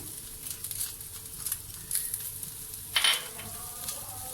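Onion and green chillies frying in a pan for Karachi samosa filling, a quiet, steady sizzle with soft stirring scrapes and a brief clink of utensil near the end, no voices.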